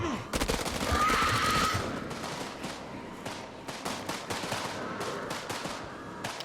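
Rapid bursts of gunfire in House of Ashes, a volley of sharp shots crowding the first half and thinning into scattered cracks, loud and close with a game voice briefly under it.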